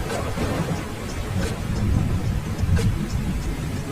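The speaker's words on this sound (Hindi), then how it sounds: "लाडो बारिश में भीगती हुई कालू और गोरी के घर आ जाती है" Steady rain falls in a cartoon story, a dense continuous hiss with low rumbling underneath and a few brighter drips, fairly loud and without talk.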